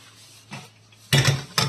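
A bowl of milk mixture for junnu sweet, made without colostrum milk, is handled in a home kitchen. A faint knock comes first, then a short burst of clinks and a final clatter near the end.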